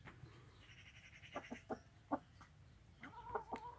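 Faint clucking and short cheeping calls from poultry chicks on a farm, several brief chirps in a loose cluster, quiet and somewhat distant.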